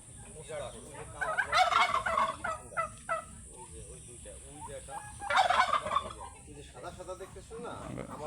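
Turkeys at a bird park gobble in loud rattling bursts, two strong calls and several shorter ones nearby, with other fowl faintly in the background.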